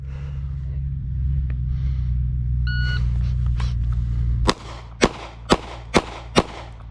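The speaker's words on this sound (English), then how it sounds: "String of fire number 4 coming up." Five evenly spaced sharp gunshots from a Glock 42 pistol with an extended magazine ring out outdoors, following a long low rumble of a passing truck with a brief beep.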